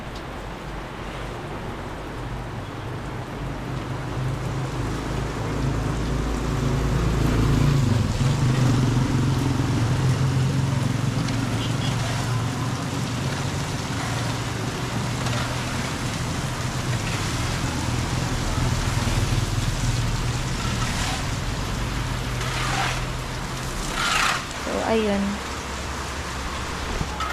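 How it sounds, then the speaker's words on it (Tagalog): Heavy rain coming down outdoors, a loud, continuous broadband hiss and patter that holds steady throughout, with a brief bit of talk over it. "Mas lumalakas tuloy yung ulan."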